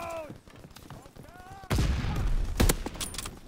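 Sniper rifle fire in Call of Duty: WWII, a sudden loud crack that opens into dense battle noise with another sharp report, following a stretch of voices talking.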